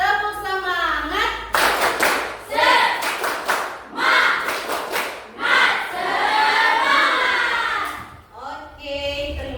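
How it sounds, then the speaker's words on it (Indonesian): A class doing a rhythmic clapping chant together, bursts of unison claps interleaved with loud group shouting and chanting voices, lively and close in a classroom. "kita tepuk semangat dulu. Tepuk semangat."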